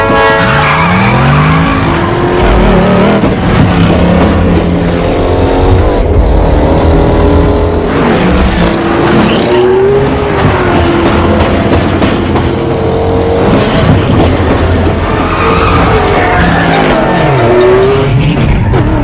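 Classic muscle cars, including a 1969 Ford Gran Torino, launch into a race with loud, close engine roars, revving surges and screeching tire squeals that swell and fade as the cars sweep past.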